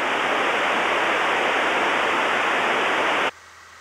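Steady, loud hiss of radio static fills a Piper Tomahawk PA38 cockpit for about three seconds, then cuts off abruptly to near silence.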